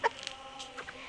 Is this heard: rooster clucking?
yes